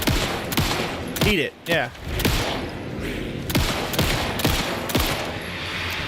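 Rapid gunfire in a video game, aimed at the enemy Mr. Scratch, with repeated sharp shot bursts and someone speaking briefly between them.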